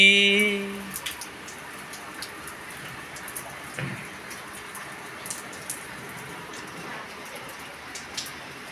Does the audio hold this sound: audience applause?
no